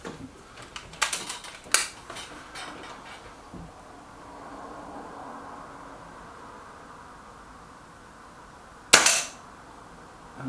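Air rifles, a Reximex Myth and a Kral Puncher Maxi, fire a few sharp cracks outdoors, a couple of shots early on and one loud crack near the end, separated by quiet background hiss.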